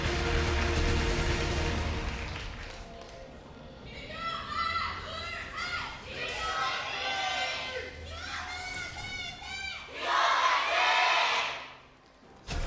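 An arena crowd at a League of Legends LCK match between SKT and BBQ Olivers cheers and whoops in rising bursts, loud and roomy, with a caster talking over the opening before the crowd swells.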